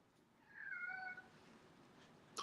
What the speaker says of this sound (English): and now the cat's upset